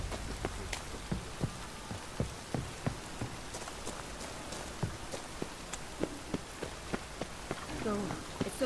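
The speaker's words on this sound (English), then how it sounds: "It just rains and rains." Steady rain falls in The Witcher 3, pattering across surfaces at an even density with scattered louder drops, while soft footsteps and faint game sounds run beneath.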